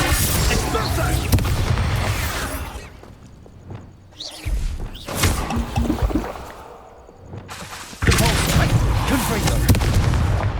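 Expulsor explosion spells go off in Hogwarts Legacy, loud booming blasts in several heavy bursts with short quieter gaps between, against a dense game battle din with voices calling out.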